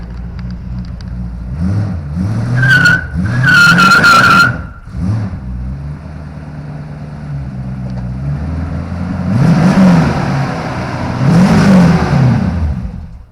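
A powerful eight-cylinder 450 car engine revs hard in two loud bursts, settles to a rumbling idle, then climbs again in rising revs, with no voices.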